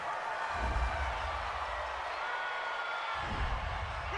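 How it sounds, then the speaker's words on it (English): A home crowd at a football stadium, Falcons versus Buccaneers, roars continuously after a penalty call, a broad sustained cheer with rumbling swells. "This home crowd, they're happy with that call."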